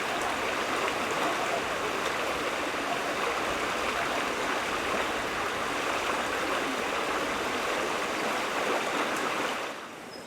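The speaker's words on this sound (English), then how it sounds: "There is the River Frome." Steady rushing water of the River Frome at Freshford, England, flows continuously at a moderate level, a broad even wash of sound that fades slightly near the end.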